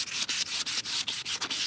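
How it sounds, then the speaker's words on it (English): Wet sanding of an F-body car wheel by hand with 180 to 220 grit sandpaper, a close, quiet series of about eight rhythmic back-and-forth rasping strokes with brief gaps between them. "I'm wet sanding just so it doesn't clog the paper."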